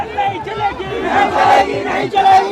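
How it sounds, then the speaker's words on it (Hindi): A large crowd of student protesters at a rally at Jantar Mantar in Delhi chants and shouts together in rhythmic bursts, close and loud, with overlapping voices throughout. "देखिए ये लोगों की भीड़ देखिएगा दोस्तों"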